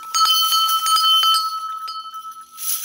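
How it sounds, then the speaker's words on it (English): A bell struck repeatedly in quick succession, bright ringing tones layering and sustaining between strikes, loud and close with no voices. "this kind of bell"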